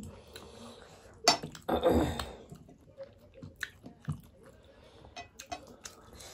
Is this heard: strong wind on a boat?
no